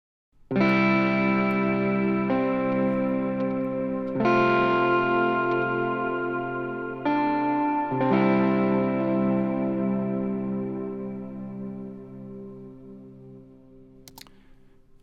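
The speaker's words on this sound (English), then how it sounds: "I started with this guitar sound" A sustained, heavily processed synth-guitar tone built from a bass sound rings out in several struck chords, each swelling then slowly decaying, with a brief click near the end.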